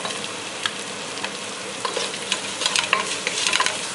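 Salt and dry spices get stirred into a pot of frying onions for Bengali bhuna khichuri, a close hiss of oil under quick clustered spoon scrapes toward the end, no one speaking.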